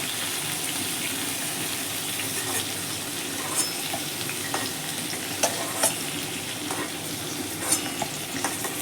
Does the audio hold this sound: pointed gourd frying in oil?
yes